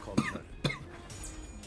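Two sharp coughs in quick succession from a single person, fairly close and quiet, followed by low background hiss.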